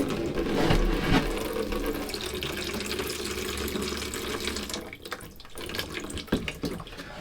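Water gushes steadily out of a hose on a boat during a bidet installation, a loud continuous rushing pour like a running tap, easing and sputtering toward the end.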